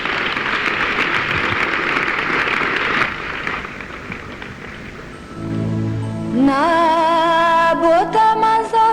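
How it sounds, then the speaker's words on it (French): Audience applause at a Christian music event fills the first five seconds as a dense, steady clatter of many hands, then fades as sustained musical tones and a rising singing voice take over. "Sous vos applaudissements."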